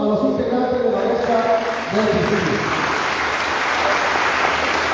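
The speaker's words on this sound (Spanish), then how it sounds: "fuerte los aplausos a los integrantes de la mesa" An audience at a municipal political debate in San Juan Colorado, Oaxaca applauds the panel members, a dense, steady clapping that fills the room, with a speaking voice over the first couple of seconds.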